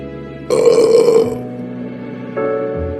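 A loud, drawn-out burp after a full meal of cucumber in a Hindi animated story, a deep resonant belch that rises suddenly, holds, then trails into a second lower groan over a quiet backdrop.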